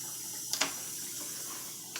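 Water runs into a kitchen dishwasher as it starts, a faint steady hiss in a quiet room broken by a few brief, sharp clicks.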